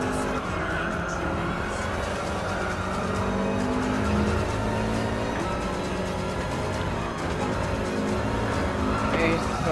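Race cars in Gran Turismo Sport roar steadily with engine drone and intermittent tire squeal across the whole stretch, loud and continuous, with a voice talking over the game.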